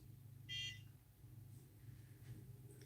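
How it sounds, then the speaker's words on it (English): A NuFace microcurrent facial device gives one short, clear electronic beep near the start, with a faint hint of another at the end over a quiet low hum. "I'm going to hold it for 2 beeps."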